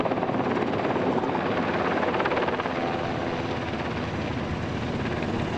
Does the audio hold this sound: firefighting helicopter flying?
yes